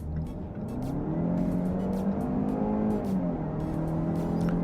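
A Jaguar E-Pace engine revs hard under acceleration toward 6,500 RPM, its pitch climbing and holding loud and close, with a few clicks and knocks over the drone.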